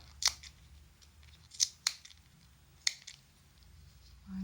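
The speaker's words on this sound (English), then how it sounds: "So now I'm using my scissors and we are cutting in the middle." Sharp scissors snip through yarn on a pom-pom maker, giving four crisp, close cuts at uneven spacing against a quiet background.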